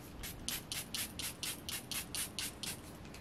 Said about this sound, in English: some setting spray